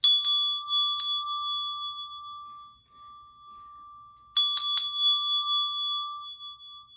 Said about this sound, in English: Let's go ahead and ring that bell for you,